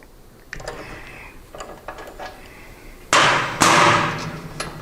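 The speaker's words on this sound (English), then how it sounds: "we're going to take our 15/16, we're going to bust this front axle loose" A 15/16 socket on a wrench breaks loose the front axle nut while a wheel is being fitted: two sharp, loud metallic cracks and thumps near the end, after a few quieter clicks and taps.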